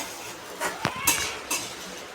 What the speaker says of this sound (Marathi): आता आपण टाकूया आपण थोडे थोडे करून मिक्स करूया